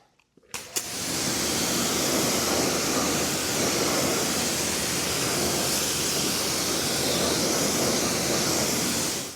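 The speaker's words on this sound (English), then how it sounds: "So let's get this rinsed off." A strong, steady rush of water sprays onto a car tire to rinse off cleaner, starting abruptly after a few small clicks and continuing as a loud, close, broadband hiss for the rest of the clip.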